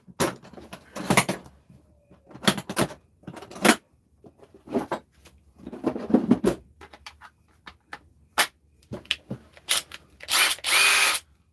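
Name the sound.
battery impact driver running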